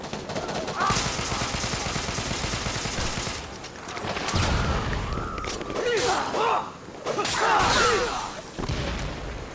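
Bursts of gunfire in the shooter game Devil's Third, rapid rattling volleys and booms that come and go in dense clusters, with someone talking over parts of it.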